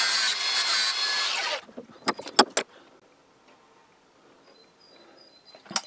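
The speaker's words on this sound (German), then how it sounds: "Das flexen wir jetzt erstmal ab, bevor wir die andere Schraube da reinmachen." An angle grinder cuts off the protruding ends of M3 screws with a loud, steady high-pitched whine for about a second and a half, then stops abruptly, followed by a few sharp knocks and quiet handling noises.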